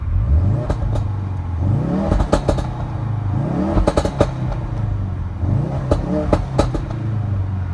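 Car engine revs repeatedly at a cars and coffee gathering, rising and falling in several climbing sweeps with sharp crackles and pops on the overrun, loud and close with no talk over it.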